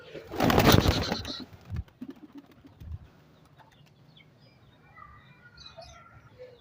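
A burst of flapping wings, then pigeons coo softly and low nearby, while small birds chirp faintly in the background.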